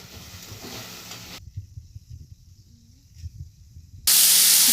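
Cut potatoes fry in hot oil with slit green chillies, a soft sizzle and stirring with gentle scraping, then a loud burst of hissing spatter at the end.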